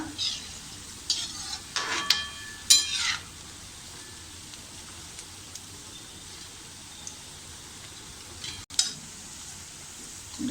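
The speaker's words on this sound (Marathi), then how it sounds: "आता आपले हे बटाटे वडे छान असे तळून झाले आहेत." Batata vada potato fritters deep frying in oil for Mumbai vada pav, a soft continuous sizzle with a few scraping stirs and clinks of a utensil early on and another clink near the end.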